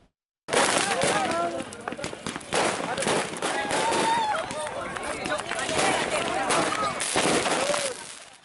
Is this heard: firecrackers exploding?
yes